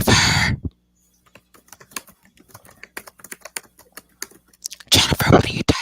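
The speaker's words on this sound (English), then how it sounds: "what are you typing?" Rapid, uneven clicks of someone typing on a computer keyboard, fairly close, between loud bursts of noise at the start and end.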